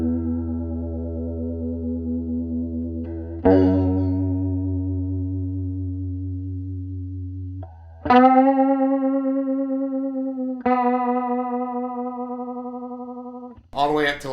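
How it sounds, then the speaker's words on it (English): An electric guitar played through a vibrato modulation pedal rings out sustained chords and notes with a steady wobble in pitch, several strums across the stretch with long, shimmering decays and no talking. "So you're going to hear a wobble in the pitch."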